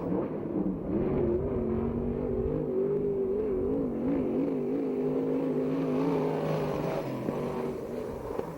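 A USAC/CRA sprint car engine drones and wavers in pitch as it circles the track at Perris, California, a steady loud mechanical hum with slight revving rises and falls.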